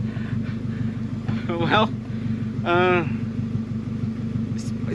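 A turbo-swapped Honda Civic engine, said to have a spun bearing, runs at a steady idle with a deep, continuous rumble close by, while someone talks briefly over it.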